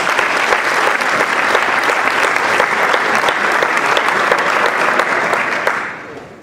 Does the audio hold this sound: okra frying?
no